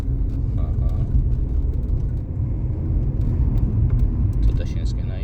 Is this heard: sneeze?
no